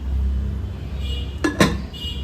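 A spoon stirs spicy crab curry seasoned with rock salt in a pot, giving two quick, close metallic clinks over a low background rumble.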